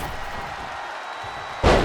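A Samoan drop slam lands in WWE 2K23, a single heavy impact thud arriving abruptly at the end after a steady crowd and arena bed.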